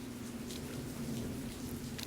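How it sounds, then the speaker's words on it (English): Steady rain patters on a surface in a dense, even hiss, with a low hum running underneath and no voices. "I can feel each and every raindrop touching down on my raincoat"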